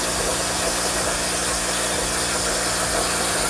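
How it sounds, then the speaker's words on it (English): Air compressor running in a shop during metal cutting, a dense, loud and continuous mechanical roar that holds steady throughout without pauses. "We've got the compressor going, got this cutting."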